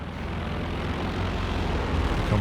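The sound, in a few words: aircraft flying overhead in Company of Heroes 2 video game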